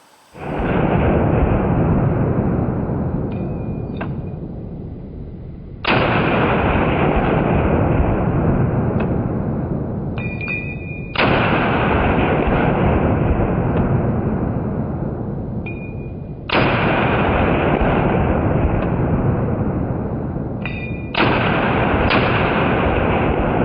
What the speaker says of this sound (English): we'll put out some targets there, and we're just going to shoot it